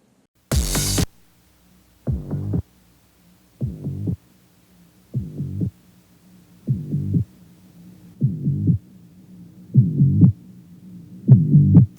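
Slow, warbling tape playback from a Revox tape echo machine at its lowest speed: a low, dragging series of short muffled bursts repeating at a steady crawl, with a faint hum underneath.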